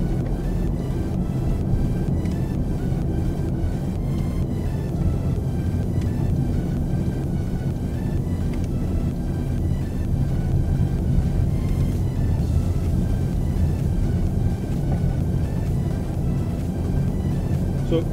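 A 2016 Honda Civic EX cruises with a steady low interior road rumble and engine hum, constant and moderately loud with no talking.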